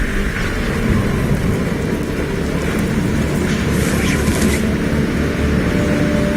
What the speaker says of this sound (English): Storm's getting closer.